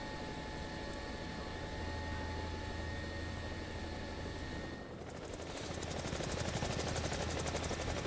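A Mi-24 helicopter in War Thunder, its rotors and engine making a steady mechanical drone that shifts to a harsher, rapid beating halfway through.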